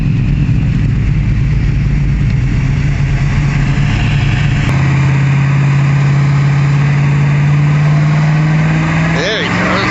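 A 1970 Plymouth Roadrunner with a 440 six-pack V8 rumbles loudly and steadily in a deep, low idle-like drone, then surges as it pulls away outdoors, with a voice talking over it.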